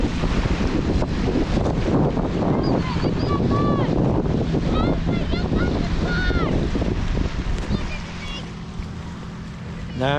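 A boat engine rumbles past over steady wind buffeting the microphone, with water sloshing and a voice talking nearby.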